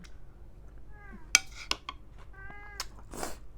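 A cat meows a few times in a home kitchen during cooking of khanom jeen, short rising cries near the microphone, mixed with sharp clinks of dishes and utensils.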